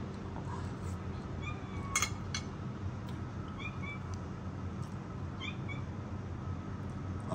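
Hungry cats in a home kitchen meow several times, short rising and falling cries scattered over a steady background hum, fairly faint, with a light clink of dishes near the start.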